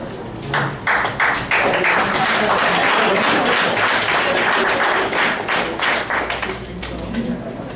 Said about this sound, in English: So can we all clap?